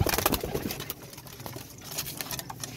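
Teddy golden pigeons kept in a loft coo and rustle close by, low throaty cooing layered over a busy, dense background with no talk.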